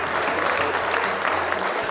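Dense, steady audience applause at a Hindi poetry and comedy stage event, a broad wash of clapping from a large crowd continuing without a break and filling the whole stretch.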